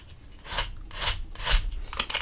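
Chalk paint being scraped in an art journal, four or five short rasping strokes at an uneven rhythm, close and fairly quiet.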